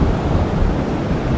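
Waves breaking at an estuary mouth on an incoming tide, a continuous loud surging wash of surf mixed with wind noise, with no voices.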